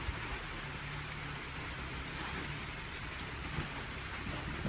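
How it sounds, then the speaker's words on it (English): Heavy rain pours down steadily outside a tiny home, a constant, faint hiss of drops on surfaces with no voices and only small bumps in the wash of sound. "Pouring down rain."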